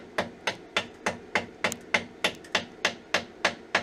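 A welding chipping hammer chips slag from welds on a saw frame, about thirteen sharp metallic taps in an even, brisk rhythm close by.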